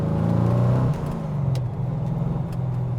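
A GT40 Tornado replica car drives along narrow country lanes, its engine note a steady, close mid-low drone that eases off slightly after the first second and then holds an even hum.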